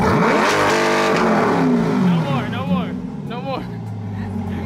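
A Chevrolet Corvette C8 with a new aftermarket exhaust revs loudly up close, a throaty roar rising and falling, while people talk excitedly over it.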